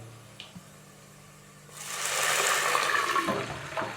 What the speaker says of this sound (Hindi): अभी हम इसके अंदर थोड़ा सा पानी का तड़का लगाएंगे